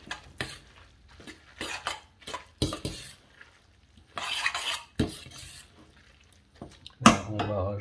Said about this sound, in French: il faut bien mélanger la préparation. Faire une sorte d'émulsion.